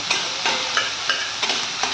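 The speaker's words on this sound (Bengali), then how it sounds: "পেঁয়াজটা একটু ভাজা ভাজা করে নেব" Onions frying in oil in a pan give a steady, close sizzle, with stirring strokes scraping through it in a regular rhythm about every third of a second.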